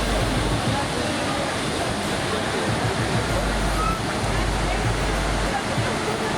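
Niagara Falls in New York roars as a steady, dense wash of rushing water that fills the whole scene, with low wind rumble on the microphone and no break throughout.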